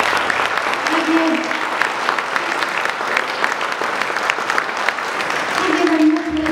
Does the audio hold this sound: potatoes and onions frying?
no